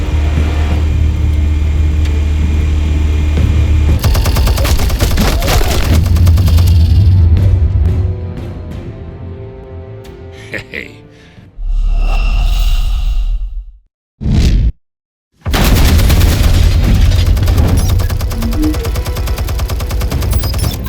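Explosions and gunfire in the Batman Telltale video game: loud, dense rattling bursts and roaring blasts fill most of the stretch, broken by a few abrupt silent gaps before the barrage resumes.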